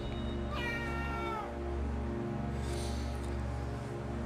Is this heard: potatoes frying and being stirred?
no